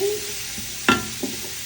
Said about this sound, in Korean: 간마늘을 좀 넣으시고, 달달달달 맛있어져라 맛있어져라 하고 볶아주세요.